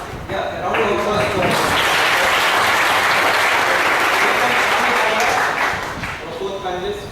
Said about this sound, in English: I welcome, a round of applause